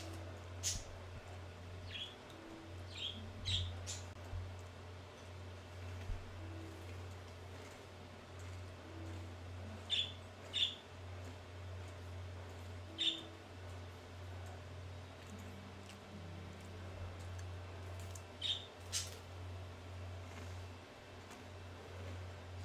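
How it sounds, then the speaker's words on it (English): Pet birds flying in and out of their cage give faint, sparse chirps and short high calls over a steady low hum from a fan or engine, and no one speaks. "my birds like to fly in and out of their cage. So you'll randomly hear them fly by or be right next to me."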